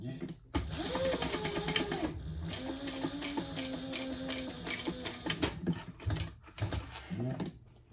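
A sewing machine runs in steady bursts while top stitching a sling bag, close and fairly loud, with brief pauses between runs and a voice talking over parts of it.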